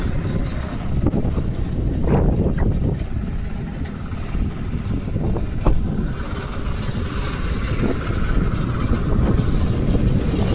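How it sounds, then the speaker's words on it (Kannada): Steady, strong wind buffets the microphone, producing a continuous low rumbling roar throughout with a few gusty bursts. "ಎಷ್ಟು ಗಾಳಿ ಬರ್ತೈತಿ ಇಲ್ಲಿ"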